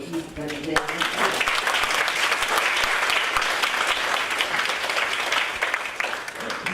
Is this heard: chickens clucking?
no